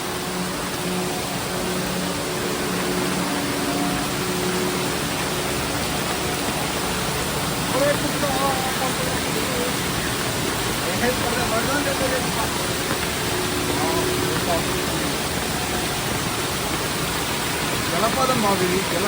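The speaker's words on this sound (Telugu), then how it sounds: "జలపాతం బాబు, ఇది జలపాతం వర్షం వచ్చేప్పుడు మాత్రమే ఉంటుంది." Steady, close rushing of a seasonal rain-fed waterfall near Ramoji Film City, Hyderabad, a dense unbroken roar that holds even and loud throughout with no other sounds breaking through.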